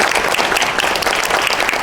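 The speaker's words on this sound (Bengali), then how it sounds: "তোমার জন্য আমরা একটা হাততালি দেবো।" A crowd at a web series grand premiere applauds in tribute to a late colleague, producing dense, steady clapping that fills the room at close range with no pauses.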